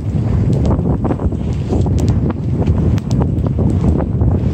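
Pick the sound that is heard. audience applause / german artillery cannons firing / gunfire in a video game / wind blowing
wind blowing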